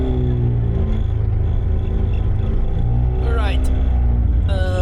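A McLaren 765LT drives a lap of the Nürburgring, its engine a loud, steady low drone heard from inside the cabin, with brief rising tones near the end.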